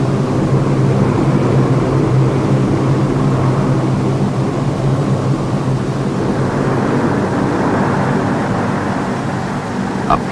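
An airplane flying supplies to an Antarctic research station, heard as a loud, steady engine drone and broad rumble that holds unbroken from start to finish, with no one talking.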